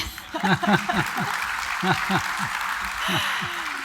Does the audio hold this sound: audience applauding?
yes